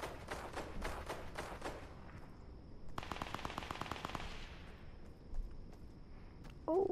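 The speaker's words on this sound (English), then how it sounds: "This is a nice shotgun." Gunfire from a shotgun in the video game Fortnite comes in rapid bursts of sharp, repeated shots, loud and close, with a short gap between volleys and quieter thumps afterward.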